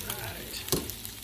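Onions for Spam fried rice fry in a hot pan, giving a steady, close, even sizzle with one slightly louder crackle partway through.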